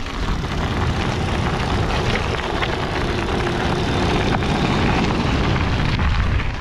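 A DŌST KOPE electric bike's motor spins fast in a low gear while riding outdoors, giving a loud, steady whirring drone mixed with broad wind rush throughout.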